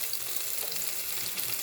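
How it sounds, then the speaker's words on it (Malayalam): Garlic sizzles in hot oil in a pan for a chicken masala, a bright, crackling hiss that stays steady and fairly quiet with no voices. "വെളുത്തുള്ളിയാണ് നമ്മളിട്ട് കൊടുക്കുന്നത്."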